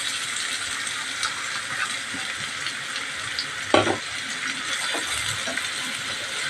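Chopped onions and garlic sizzle in hot oil in a pan for green chilli beef chukka, with a steady frying crackle and a brief scrape of stirring partway through.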